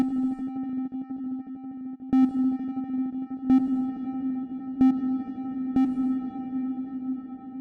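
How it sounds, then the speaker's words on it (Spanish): A steady synthesized tone processed through a diffuse reverb, with a sharp pulse recurring roughly every 1.3 seconds and its tail washing out like an echo in a small room. "Suena incluso parecido, como un eco."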